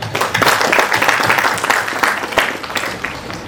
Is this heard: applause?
yes